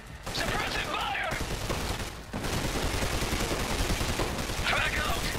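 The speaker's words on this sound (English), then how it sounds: "Suppressive fire." Sustained gunfire in the shooter game Trepang 2, a dense continuous burst of shots with a brief gap midway, loud and unbroken, with faint voices calling out briefly over it.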